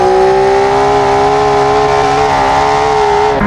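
A Porsche engine in BeamNG.drive holds a loud, steady high-pitched rev, a sustained whining drone that barely changes pitch and cuts off at the very end.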